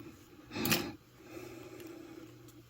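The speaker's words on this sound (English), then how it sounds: "cut off my thread here." Scissors cutting beading thread while making peyote bezeled earrings, one short crisp snip up close, followed by faint handling sounds in a quiet room.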